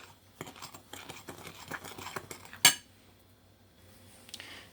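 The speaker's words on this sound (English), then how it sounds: "we're going to just take the spoon and stir it up and mix it up real good" A spoon scraping and clinking steadily in a bowl as it stirs a dry flour mixture for a peach cobbler batter, with quick rhythmic strokes, one sharp knock on the rim, then quieter stirring.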